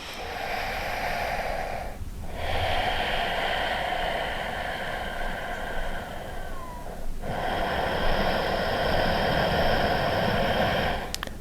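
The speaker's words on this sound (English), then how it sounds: "Breathe with Ujjayi breath." Ujjayi yoga breathing, a long steady hiss of constricted throat breath close to the mic, broken by two brief pauses between breaths, with no talking.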